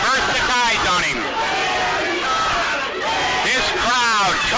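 A wrestling arena crowd roars and cheers loudly and steadily throughout, with swells of shouting and whooping, over continuous crowd babble.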